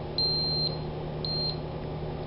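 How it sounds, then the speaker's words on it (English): A BW GasAlert Micro gas detector gives two short high-pitched electronic beeps about a second apart over a low steady hum. "Wait for a few beeps."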